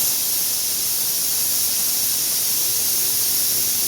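A pressure cooker holding a small batch of plain dal releases steam in a steady, loud, continuous hiss that holds evenly from start to finish, with no voices.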